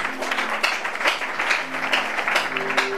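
A congregation at a French-language Bible teaching on Exodus breaks into applause, with dense, continuous clapping and scattered sharper claps running throughout.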